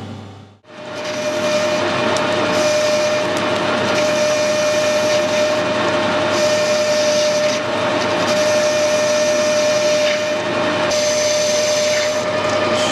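Metal lathe cutting a 45 degree chamfer on the end of a steel bush for a weld repair, a loud steady machining drone with a sustained whine running continuously throughout.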